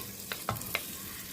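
Hot oil with crisp fried onions poured into a chicken curry, giving a few short, soft splashy sizzles and stirs close by, quiet overall.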